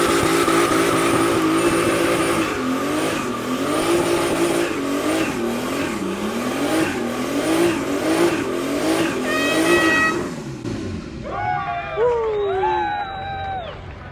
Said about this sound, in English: We got the Burnout competition,